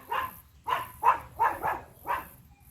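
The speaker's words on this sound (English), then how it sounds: "Sorry about the dog next door, always loves barking at me." A neighbour's dog next door barks five times in a steady series of sharp, fairly close woofs, with quiet low outdoor background between them.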